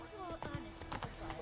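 In The Witcher 3, a horse gallops with quick, rhythmic hoofbeats under spoken voices, brief and fairly quiet.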